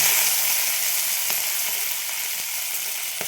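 Mixed vegetables, including raw green banana, sizzling loudly and steadily in a hot pan, a close, continuous crackle with a few sharper pops and no talking.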